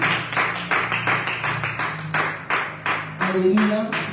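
A church congregation at a Friday worship service claps steadily in a quick, even rhythm, loud and close, with a voice speaking over the clapping.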